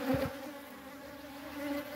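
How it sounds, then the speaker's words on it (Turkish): Honey bees buzz around a beekeeper's hive, with a queen damaged by varroa mites, as a low, wavering drone rises and falls and swells near the start and end, steady and fairly close, with no voices. "Arılar da saldırıyor."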